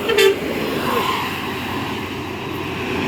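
An ANS Royal class intercity bus bound for Jakarta sweeps past on a roadside with a short, loud horn toot at the start, then a steady engine and road roar as it goes by.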